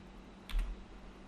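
A short burst of computer keyboard typing, a few quick key clicks close by, stands out against an otherwise quiet room tone.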